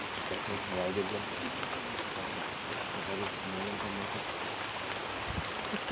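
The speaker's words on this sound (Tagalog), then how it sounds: "Lakas ng ulan mga labs." Heavy rain pours steadily in a dense, continuous wash with a constant roar and no pauses, with faint talk underneath.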